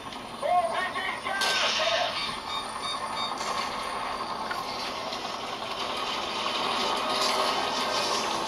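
Explosions and gunfire from an action game played on a third-generation iPad, with sharp bursts and booms over a steady dense rumble of game sound, moderately loud throughout.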